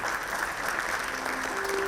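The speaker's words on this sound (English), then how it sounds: "Please give them a round of applause" Brief, dense applause from an audience at a manufacturing excellence award ceremony, steady and broadband throughout with no voices over it.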